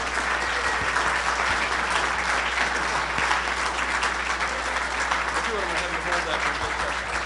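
Sustained applause from a conference audience at the 2019 JFK Assassination Conference in Dallas, a dense steady clapping that fills the hall for the full stretch without letting up.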